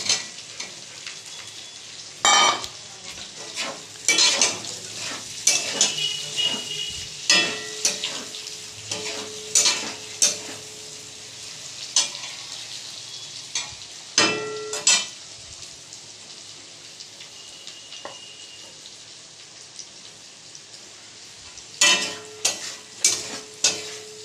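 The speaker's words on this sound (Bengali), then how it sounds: "দেখো যতক্ষণে ক্যাপসিকামগুলো ভাজা হচ্ছে" Capsicum and onion sizzle in a hot pan while a spatula scrapes and clanks against the metal in irregular bursts. The sound is close and steady, with quieter stretches between stirs.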